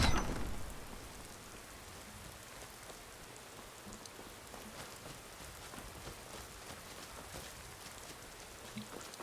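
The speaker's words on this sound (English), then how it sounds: "I love the sound of rain tapping on the ground." Continuous rain patters on the ground in a Skyrim game, a dense, even hiss of drops that stays steady throughout with no voices.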